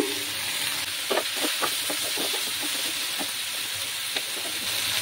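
Brinjals and tomatoes sizzle steadily in a hot pan for an egg-brinjal curry, a constant frying hiss with small crackling pops throughout, close and alone.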